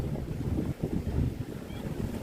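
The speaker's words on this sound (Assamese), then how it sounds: "ইঞ্জিন ষ্টাৰ্ট হৈ গ'ল।" A yacht engine runs on the Black Sea, a steady low rumble churning beneath gusty wind buffeting the microphone, with a brief dip in the middle.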